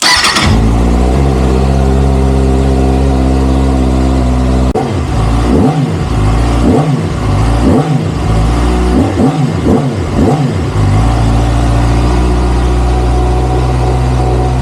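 A 2025 Kawasaki Ninja ZX-6R on its stock exhaust, idling with a steady buzzing drone, then blipped through a series of sharp rising and falling revs before settling back to idle, loud and close.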